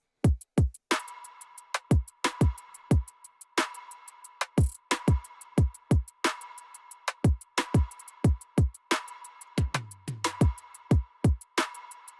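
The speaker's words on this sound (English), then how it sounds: "Everything that's in the drum machine sounds like this." Programmed drum machine beat in a hip hop or trap style, built from punchy kicks and sharp hits in a steady looping pattern, with a low pitched accent near the end; loud and close, no talking.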